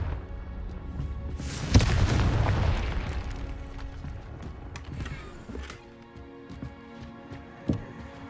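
A Confringo explosion spell in the Hogwarts Legacy video game bursts with a single heavy boom that rumbles and fades over a couple of seconds, followed by scattered smaller pops and impacts.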